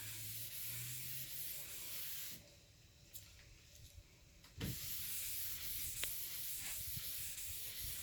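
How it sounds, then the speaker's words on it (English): A rag wiping Java gel stain onto wood, a soft close rubbing hiss in strokes, pausing briefly in the middle before resuming, with a few small taps. "Kind of wipe it in."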